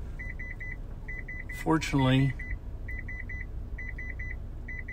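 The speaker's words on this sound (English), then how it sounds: "beep, beep, beep, beep," Electronic beeps arrive in quick bursts of four or five high, even pulses, repeating steadily at a clear, moderate level while a store is open for shopping on Thanksgiving Day; someone talks briefly over the middle of the pattern.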